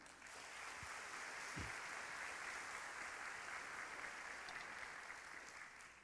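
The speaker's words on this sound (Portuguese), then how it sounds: "aplaude ao Senhor." A congregation applauds the Lord in a Portuguese-language church service, a steady continuous roar of many hands clapping at a fairly distant, even level for several seconds, with no speech over it.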